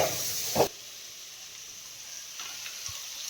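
Onions dropped into hot oil in a pan for a Tamil-style curry gravy give a loud, close sizzling hiss with a brief spike, then settle into a softer, steady frying hiss.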